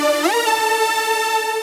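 Synth lead patch from Synth 5.2 in a dark trap production, a bright sustained tone that slides up to a higher pitch early on and then holds a steady rich note, played alone and loud.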